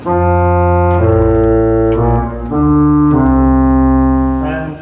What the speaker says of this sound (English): And an 8-foot tromba.